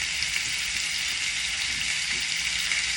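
Onions fry together with cabbage, turkey and sausage links, producing a steady, close, crackling sizzle that holds at an even level throughout with no voices.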